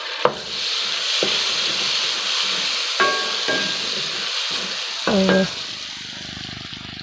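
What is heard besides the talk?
frying tomatoes with garlic and spices for dal chana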